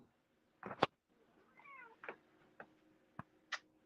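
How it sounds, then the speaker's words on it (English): A pet cat meows repeatedly indoors, begging to be let outside: a double meow, a drawn-out wavering cry, then several short, sharp meows spaced apart. The sounds are moderately close and stand alone over a quiet background. "I hear a kitty"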